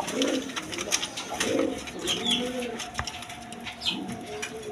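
A pair of Danish pigeons coo in soft, repeated low phrases close by, with brief wing flutters and light background noise.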